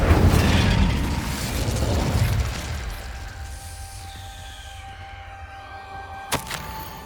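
A fire spell, Incendio, is cast in the Hogwarts Legacy video game: a loud whooshing burst that rumbles and fades over several seconds into a quieter magical hum, with a short sharp crackle near the end.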